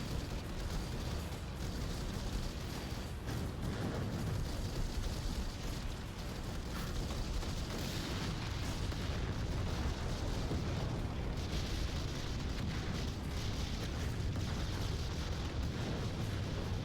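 An anti-tank gun pounds a base turret in the VR strategy game Final Assault, a continuous loud roar of explosions and bursts layered over dense battle noise throughout.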